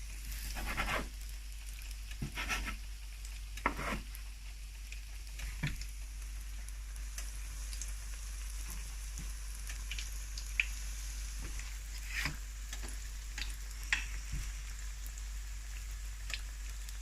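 Maori fried bread frying in a pan of oil, a steady soft crackle and patter running throughout with scattered sharper pops and spits, close and continuous, no talking.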